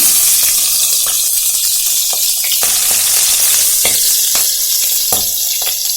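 Whole spices and slit green chillies tempering in hot oil for a vegetarian dal, giving a loud, steady, close sizzle with intermittent stirring scrapes and no talking.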